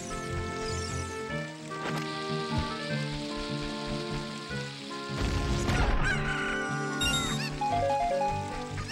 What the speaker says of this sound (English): Why is there a chicken here?